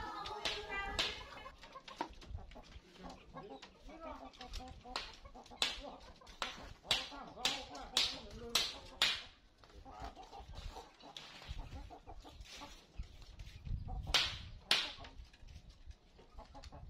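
Bangkok hens and chickens cluck at a poultry farm, with repeated sharp calls and bursts of clucking over a busy mix of farmyard noise, fairly close and moderately loud throughout.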